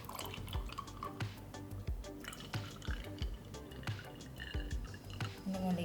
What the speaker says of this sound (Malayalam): പാലൊഴിക്കാം.